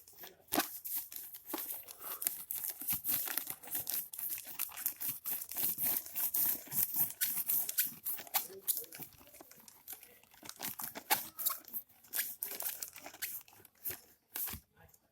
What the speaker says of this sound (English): With the help of paper, now rub the surface of the balloon.